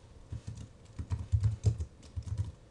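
Typing on a computer keyboard, a quick, uneven run of close key clicks with short pauses between bursts, no voice.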